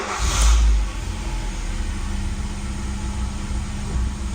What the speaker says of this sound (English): Now just check the engine runs all right.